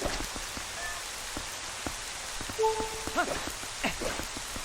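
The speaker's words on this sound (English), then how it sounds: "The reason I think it's raining now, it's not just rain." Rain falling in the video game The Legend of Zelda: Twilight Princess, a soft, steady patter at low volume with a few brief tonal chimes and taps over it.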